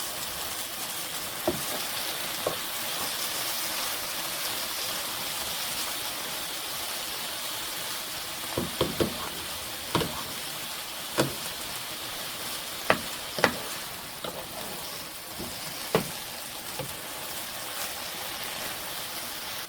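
Vegetable bhaji of mashed potatoes sizzling steadily in a pan on a home stove, a soft continuous fry with occasional sharp clicks and pops from stirring, fairly quiet and without talk.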